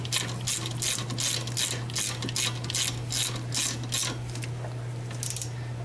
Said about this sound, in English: we need a 17 millimeter wrench like that, and we'll just grab that one. Now we can spin it all loose.